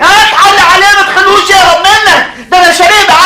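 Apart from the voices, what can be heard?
None of the usual background noises is heard.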